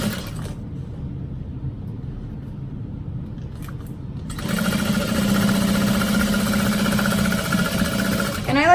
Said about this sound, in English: And we're just gonna sew that hole closed.